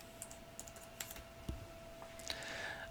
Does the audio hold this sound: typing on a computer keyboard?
yes